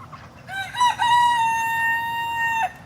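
A small white rooster crows once, a long, loud, sustained call close by in a garden, with no talk over it.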